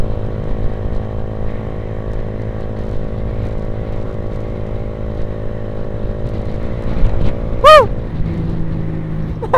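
A motorcycle engine drones steadily and close while riding at speed along the quiet Pantura coastal road toward Betoyo. Wind noise runs underneath, and a brief sharp sweeping tone cuts in near the end.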